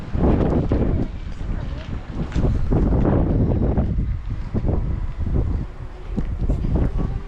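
Strong wind gusts roar steadily through an outdoor winter scene in Canada, buffeting the microphone with low rumbling bursts throughout, while people's voices and cheers come through under the blustery noise as blowing snow is carried along.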